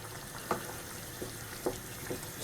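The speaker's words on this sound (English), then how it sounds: "simmer, just gonna simmer it now" Cherry tomato soup with bay leaves simmers in a pot, giving a low steady bubbling hiss broken by a few soft, separate pops and plops.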